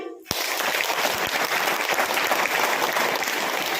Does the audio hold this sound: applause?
yes